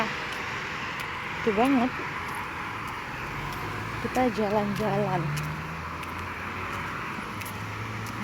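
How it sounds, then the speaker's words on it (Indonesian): Cars and motorbikes pass on a nearby main road beside a house and garden in Taiwan, a steady distant traffic rumble with a vehicle swelling by, while someone talks briefly over it. "karena ini tuh dekat jalan raya, jadi lalu lalang suara mobil dan motor itu ya"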